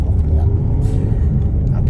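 Close, loud engine rumble of a leisure touring motorcycle while riding, a steady low drone that holds through the whole stretch with little change in pitch.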